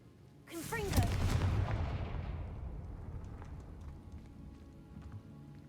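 Confringo fire spell in Hogwarts Legacy, a sudden whooshing burst with crackling sparks that flares loudly, then decays into a fading rumble and scattered crackle over several seconds.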